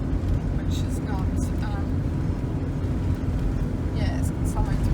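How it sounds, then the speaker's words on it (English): A car driving along a road in Spain just off the motorway, a steady low engine and road rumble heard from inside the car, continuous and even, with a voice talking over it. "So I've come off the motorway, just driving along."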